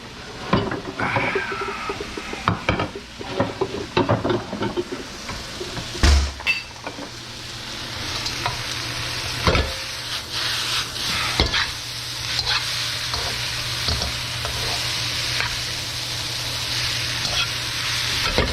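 Vegetable lo mein with bean sprouts being stir-fried in a hot pan or wok, with steady sizzling and frying broken by repeated scraping and stirring clatter, close and fairly loud, without talk.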